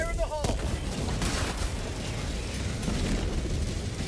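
A grenade blast in Helldivers 2 during a fight against automaton forces: an early sharp burst, then a dense, rumbling wash of explosive noise and debris that sustains at steady loudness for several seconds.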